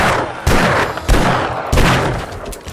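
Rapid bursts of gunfire in the survival game 7 Days to Die, Alpha 20, come as three loud, booming volleys in quick succession, close and dominant.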